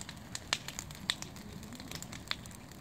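Wood fire burning outdoors, giving sparse, sharp crackles and pops over a faint steady hiss, fairly quiet with no talking.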